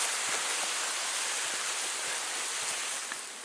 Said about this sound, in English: Check out this small waterfall.